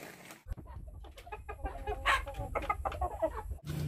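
Heritage free-range chicken clucking on a farm, with steady, fairly close, low murmuring clucks and a few sharper calls, with no talk over them.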